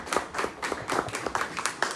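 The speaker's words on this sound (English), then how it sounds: "a round of applause to our panelists" Audience applause for the panelists at a community panel on gangs and violence, a couple of seconds of fairly sparse, uneven clapping from a modest crowd with distinct individual claps.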